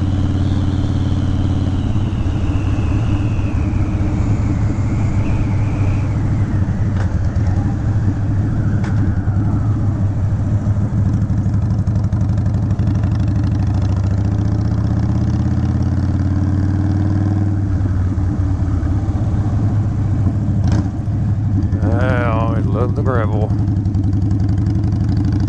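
A Harley-Davidson Wide Glide motorcycle rumbles steadily while riding to work, its deep low engine drone continuous and loud throughout, with wind rush and someone talking over it.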